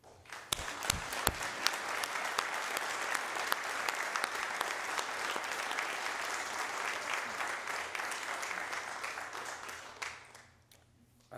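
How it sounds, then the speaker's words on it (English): A crowd applauding steadily for about ten seconds, dense even clapping that tapers off and fades out at the end. "we give a round of applause to our missions team"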